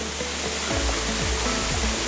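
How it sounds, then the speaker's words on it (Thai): A waterfall pours steadily into a shallow natural pool, a loud continuous rushing wash of water with no break. "มันเป็นน้ำตกลงมาจากข้างบน"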